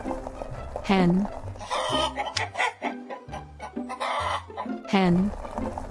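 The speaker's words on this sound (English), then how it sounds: "hen," A hen clucks and squawks in a busy farmyard, loud and close, with other chickens calling around her and a rooster-like crow at the start and end.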